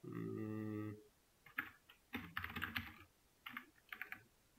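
Computer keyboard typing Python code during a programming lesson: after a brief tonal sound at the start, uneven clusters of quick key clicks are heard close by, with no speech.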